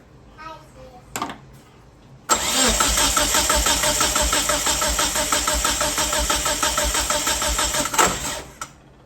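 A 1997 Mitsubishi Eclipse GSX engine cranking over during a compression test: a steady rhythmic whirring churn of the starter for several seconds, close and loud, with brief talk around it.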